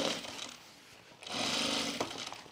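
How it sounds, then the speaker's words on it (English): Sewing machine stitching a 1/4 inch seam through layers of a tool belt, a close mechanical whir in two bursts, the second louder and steadier, with no speech. "So we're gonna sew this at 1/4 inch seam"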